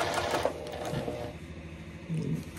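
A sewing machine stitches a seam forward, then backward, then forward again, with a steady rapid mechanical whir close by that pauses briefly between directions.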